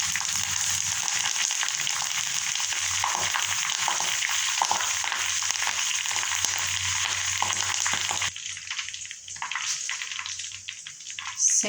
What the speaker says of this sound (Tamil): கருவேப்பிலை சிம்மில் வச்சுருக்கோம்